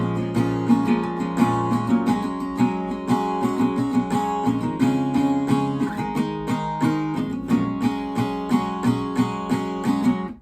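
Acoustic guitar playing the bridge of the song, steady rhythmic strumming of ringing chords, close and full, continuing evenly throughout.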